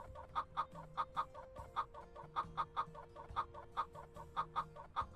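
A cockerel calls in a fast, steady run of short, repeated bursts over a constant background hum, fairly close and moderately loud, with no talking.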